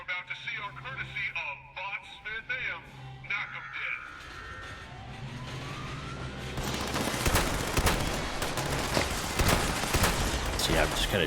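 Gunfire while shooting at mutated enemies in Fallout 76 during a public event: a dense stretch of rapid shots and impacts builds in the second half, loud under game sounds, after an earlier passage of talk and music-like tones.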